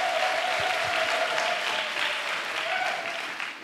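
An audience at a national missionary retreat in Côte d'Ivoire applauds steadily, a dense continuous wash of clapping that fades slightly at the end.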